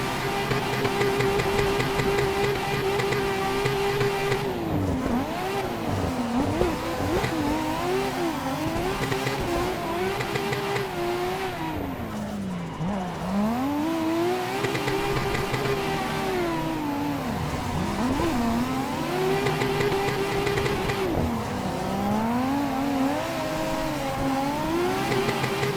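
A Nissan 350Z in a racing video game drifts and revs hard, its engine note sweeping up and down continuously and bouncing off the rev limiter, loud and close with no talking.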